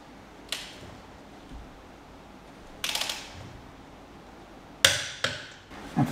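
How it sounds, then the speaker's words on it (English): A torque wrench tightens wheel hub bolts to 65 Nm on a Dodge Grand Caravan, making a handful of sharp metallic clicks and short ratcheting bursts, separated by quiet pauses in a workshop. "So now I've got the torque wrench, I'm going to torque this up to 65 newton meters"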